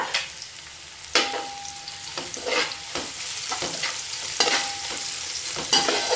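Thinly sliced onions sizzle with a little salt in a pan, for a mutton biryani, as a spatula stirs and scrapes them in several close, clattering strokes over a steady hiss; no voices.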